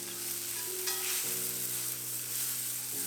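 A thin beef steak sears in a hot pan, giving a loud, steady close sizzle with a faint ringing hum underneath throughout.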